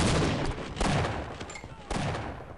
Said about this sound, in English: blast him with that big gun of yours